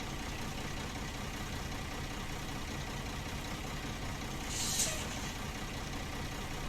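Truck in SnowRunner idling with a steady low engine rumble, and a short hiss of air brake releasing partway through.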